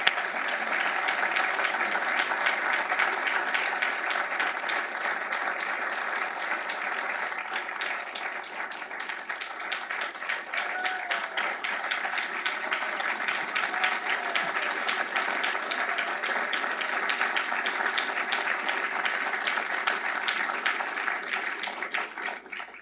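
Sustained applause from a large audience at an evening legal society event honoring Justice Thomas, steady dense clapping filling the room for over twenty seconds without pause, fading only slightly at the end.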